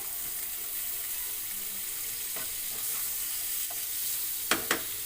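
Butter sizzles in a hot pan while cooking chicken tikka masala, a steady soft hiss throughout with a couple of sharp clinks near the end.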